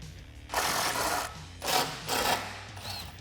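A 19mm socket on a ratchet works the front bumper bolts of a 1987-2006 Jeep Wrangler, giving three close bursts of rapid metallic ratcheting separated by short pauses, with no speech.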